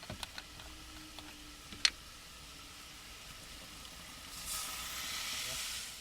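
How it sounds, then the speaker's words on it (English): Wine poured into a hot pot with onion and meat, a soft hiss rising toward the end after a few faint clicks and a sharp tap. "And then at this point, in goes the wine."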